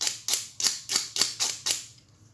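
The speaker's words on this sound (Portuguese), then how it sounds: "você pega o estilete e passa desta forma para tirar estas rebarbas aqui" A utility knife dragged across a fiberglass circuit board edge to scrape off burrs, six quick evenly spaced raspy strokes about a quarter second apart, close and crisp, ending abruptly with no voices.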